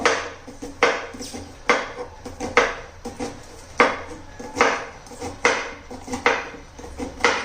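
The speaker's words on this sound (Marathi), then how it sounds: "पूर्ण सगळी कारली मी चिरून घेते." Small tender bitter gourds (karela) chopped into small pieces on a board, with sharp rhythmic knife knocks, close and loud, roughly two to three strokes a second in uneven bursts.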